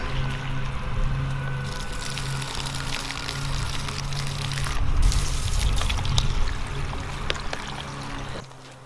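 Water pours steadily into the tubes of Wall O' Water plant protectors in a garden, a continuous close splashing trickle that swells midway and cuts off at the very end.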